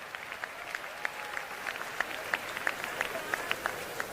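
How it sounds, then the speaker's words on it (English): Church congregation clapping hands in a steady, loosely synchronized rhythm, sharp individual claps repeating roughly every third of a second over a low crowd murmur, fairly distant and moderate in level. "Please clap your hands."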